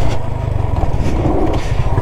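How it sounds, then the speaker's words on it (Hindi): A motocross motorcycle on a dirt track runs loud and close, its engine roaring briefly as the rear tyre skids against a side wall, with a rough scraping edge to the burst. "और एक साइड वॉल और पीछे का टायर स्किड।"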